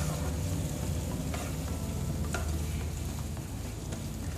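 Mutton and onions stirred and fried in a pan for a Kerala-style mutton roast, with a steady close sizzle and a continuous scraping stir throughout, no voices.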